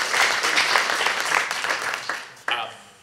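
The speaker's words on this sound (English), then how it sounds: "A round of applause to please thank our panelists." Conference audience applauding to thank a panel of speakers, a dense burst of clapping that thins out and fades toward the end, with a brief voice near the close.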